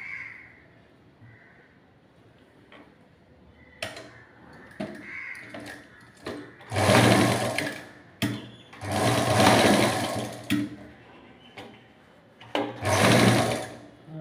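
A sewing machine stitches a fabric fold with ribbon tape in several loud, close bursts of rapid needle clatter, separated by quieter pauses with small handling clicks.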